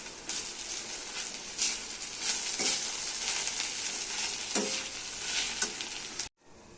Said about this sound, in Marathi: मस्त परतून घेऊ.